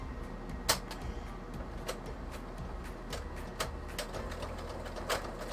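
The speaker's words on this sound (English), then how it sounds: "We're going to shift over to here so you guys can watch me sew crap together" A sewing machine stitching fabric pieces together, a faint, steady mechanical whir punctuated by irregular ticking clicks, steady and close with no talking.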